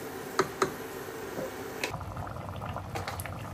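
Gourd curry bubbles in a pot on the stove, a soft continuous simmer with a couple of sharp clicks early on and some faint rustling later; close but quiet, no one speaking.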